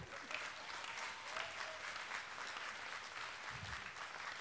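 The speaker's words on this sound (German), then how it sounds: "Applaus für Johannes" Sustained, even applause from a theatre audience as a man named Johannes is called up onto the stage, a dense steady patter of many hands lasting throughout at moderate distance.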